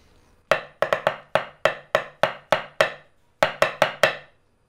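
A march-style drum pattern struck on a snare-like drum, a steady run of crisp, evenly spaced hits closing with a quick group of three faster strokes, played alone and close.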